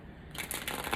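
Tarot cards riffle and flutter rapidly in a steady papery burst, close and fairly loud, with no voices.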